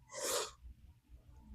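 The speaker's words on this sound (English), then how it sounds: "Uh-oh, I have to sneeze." A single loud, close sneeze bursts out from a person suffering allergy-season symptoms, followed by quiet breathing and faint room noise.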